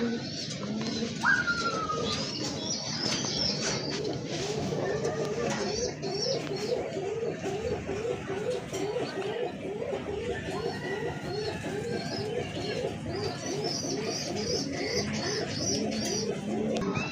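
Indian Bombay pigeons cooing while feeding, repeated rhythmic low coos running throughout at close range, with higher chirps and other bird calls in the background.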